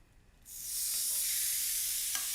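Pork chops hit a hot pan and a sudden loud sizzle starts at once, then holds as a steady, close hiss with no talking.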